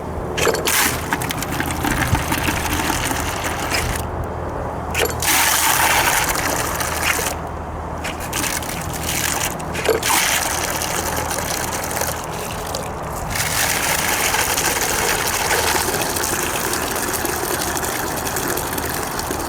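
Steady rush of water pouring through a gold prospecting sluice loaded with pay dirt, a continuous broadband wash under a running engine or pump hum, with no talk.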